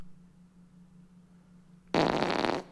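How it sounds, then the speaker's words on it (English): A loud, raspy fart sound effect from a video game bursts in after a quiet stretch with a low steady hum, lasting under a second. "Oh, I just heard someone fart."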